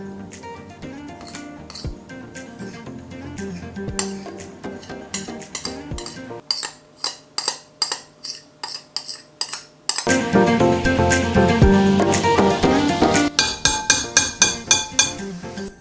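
A utensil clinks against a bowl while melted chocolate is mixed into cookie brownie batter, first scattered taps, then a regular run of scrapes, then louder rapid clinking stirs close up, with no talk.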